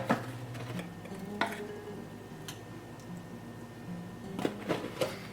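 Soft scraping and tapping of a utensil in a skillet of tomatoes, chicken broth and taco seasoning, with scattered clinks and a low sizzle underneath, quiet and close.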